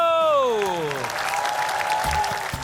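Studio audience applause on a cooking show, a burst of clapping that follows a rising and falling voice and gradually thins out, with speech over the start.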